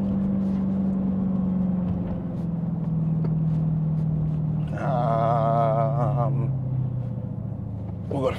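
Simulated Dodge Challenger Hellcat engine in the Roblox game Jailbreak, a steady low drone that shifts pitch as it drops down through the gears, with a brief higher whine midway, running continuously under a voice talking.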